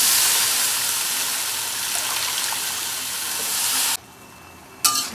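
Leafy greens curry cooks in a pan with a steady hissing simmer that runs for about four seconds, then cuts off sharply, followed by a brief clatter near the end.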